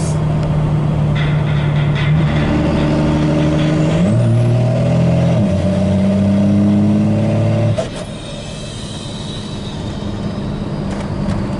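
A 12 valve Cummins diesel truck engine with a newly installed Power Driven Diesel Hot Rod lift pump runs steadily, a loud close drone with shifting tonal hum that drops to a quieter idle near the end, no talking.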